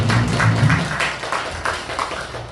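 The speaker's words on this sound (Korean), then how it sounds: "우리 모두를 위해서 한번 박수로 환영하겠습니다" A church congregation applauds together to welcome a guest, a steady wash of many hands clapping at close range with no talk over it.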